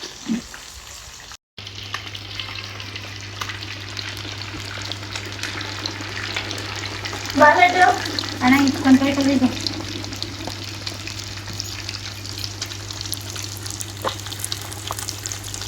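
Marinated fish frying in a pan, a steady low hiss and crackle of oil throughout with a constant background hum, a brief burst of clinking and splashing in the middle, moderately close.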